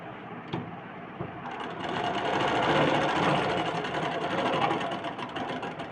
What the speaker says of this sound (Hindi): यहाँ से कपड़े को आपको इस तरफ सिलाई करना है